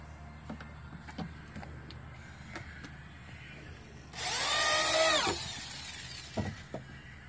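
A power drill drives screws during a camper conversion of a 2008 Ford Escape, one sustained whining burst of about a second rising and falling in pitch, set between scattered tapping and handling knocks.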